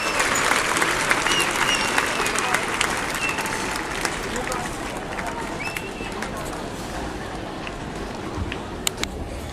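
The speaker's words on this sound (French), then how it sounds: "vous entendez les applaudissements du public français et monégasque" A tennis crowd at the Monte-Carlo Masters applauds a victory on the central court, loud sustained clapping that slowly thins out, with a commentator speaking over it.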